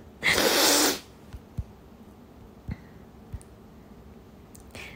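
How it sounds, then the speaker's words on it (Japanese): A single loud, close sneeze bursts out near the start, followed by a few soft clicks and small noises in an otherwise quiet indoor room. "やばい、くしゃみ出そう。"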